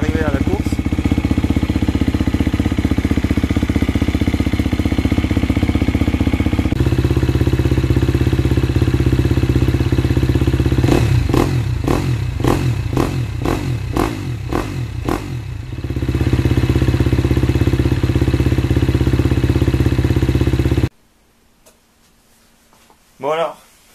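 A race motorcycle engine, unused for three weeks, runs at a steady loud idle with a burst of sharp revving blips in the middle, then cuts off abruptly into near silence with a brief clatter at the end.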